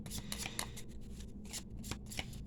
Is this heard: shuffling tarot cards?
yes